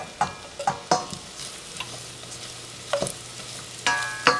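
A spoon stirs garlic, bread and oregano frying in a pan, giving a close sizzle with repeated scraping knocks in uneven bursts, heard alone.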